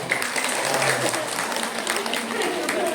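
Applause from an audience fills the space, steady clapping with some voices mixed in underneath.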